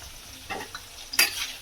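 A spoon stirring chilli fish coated in chilli powder, salt and soy sauce as it fries in a pan: a few brief, soft scraping strokes over a faint sizzle.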